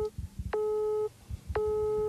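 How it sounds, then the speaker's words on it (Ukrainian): Telephone busy signal: two long steady tones separated by a gap, loud and clear, with faint low background noise underneath. "у вихідний день його телефон постійно зайнятий, наче заблокований"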